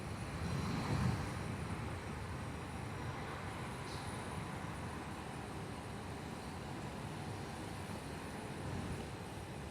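At Perth Airport, a landing airliner produces a steady broad engine roar with a slight swell at the start, moderately distant and unbroken, no voices.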